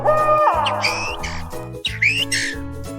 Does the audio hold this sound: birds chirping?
yes